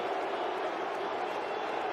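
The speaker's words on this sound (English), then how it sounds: "He leaves Eden Park to the glorious cheers of this New Zealand crowd" A New Zealand cricket crowd at Eden Park roars in a steady, dense wash of cheering after a wicket, loud and continuous throughout with no single voice standing out.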